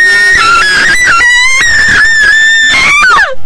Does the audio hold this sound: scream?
yes